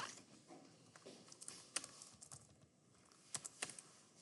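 Fingers type on a computer keyboard, producing quiet, close key clicks in irregular bursts with brief pauses between them. No voices are heard.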